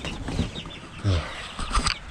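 Chickens cluck in short, close bursts, with a few louder squawks and some rustling between them.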